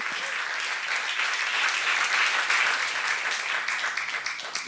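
A church seminar congregation applauds steadily, a dense wash of clapping that holds at an even level throughout.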